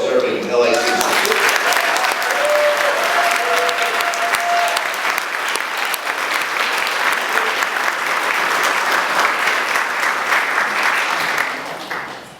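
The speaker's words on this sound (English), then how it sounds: "So I want you to join me in a round of applause for the generosity of those donors" Loud, sustained applause from an audience at a college scholarship awards event honoring donors, a dense steady roar of clapping that carries on for about eleven seconds before tapering off, with faint voices early on.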